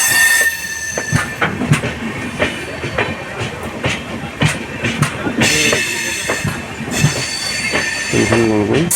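A train pulls out of Guwahati Railway Station with loud metallic wheel squeals and clattering wagons rolling past close by, the screech rising and falling over the rumble.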